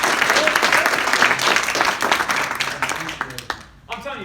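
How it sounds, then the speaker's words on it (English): A crowd claps in a dense, steady round of applause for a man named Eric that thins out and fades near the end, with a voice briefly audible over it. "Could everybody just give Eric a round of applause?"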